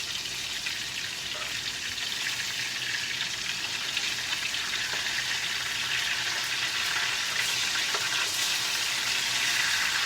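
Grouper fingers fry in a pan with a steady, dense sizzle that holds throughout, with faint scrapes and clicks as the pieces are turned.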